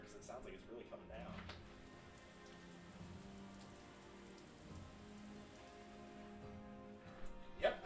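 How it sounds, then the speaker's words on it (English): Heavy rain falls steadily outside in a city setting of Kirby Air Riders, a soft, even hiss of drops continuing throughout at low level. "it sounds like it's raining cats and dogs outside"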